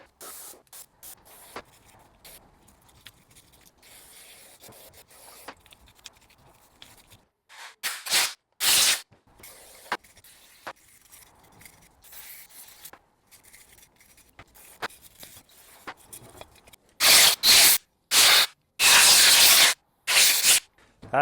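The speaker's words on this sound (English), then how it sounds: "now we'll just clean it up with some carbon choke cleaner" Carb and choke cleaner sprays from an aerosol can onto a part off a BMW F30 drivetrain, heard as a few short hisses at first, then several long loud blasts near the end, with quiet handling noise between.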